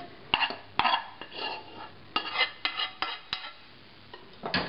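Cooked quinoa is stirred in a pot, a series of irregular scraping and clinking strokes of a utensil against metal, close and fairly quiet with short pauses between.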